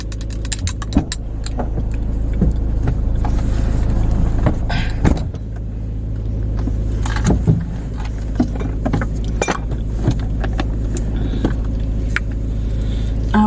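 Interior of a moving car: a steady low road rumble fills the cabin, broken by scattered clicks, rustles and small handling noises close by, with no talk.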